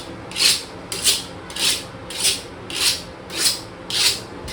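A kitchen knife is sharpened at home in a makeshift way. The blade scrapes in seven even, rhythmic rasping strokes about half a second apart, close and clear, with no talk.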